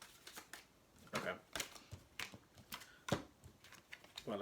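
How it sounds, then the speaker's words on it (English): Tarot cards shuffled by hand in a series of crisp riffling bursts and taps, close and fairly quiet, with faint talking mixed in. "While I was shuffling,"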